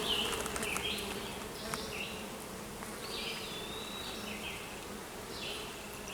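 Honey bees buzz steadily around a Kenyan top bar hive, a continuous close drone with individual bees whining past at higher pitch.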